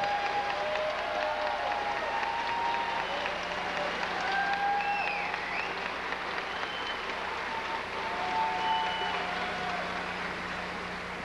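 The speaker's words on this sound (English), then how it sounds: "give him a warm round of applause" Audience applause at the 1990 Miss Gay America Pageant, a steady wash of clapping with faint crowd murmur and a low hum underneath, sustained evenly throughout.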